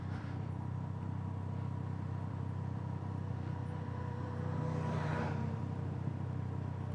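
A motorbike climbs a mountain road from Babusar Pass toward Chilas in second gear, its engine a steady low rumble with wind noise, holding a constant drone and swelling slightly midway.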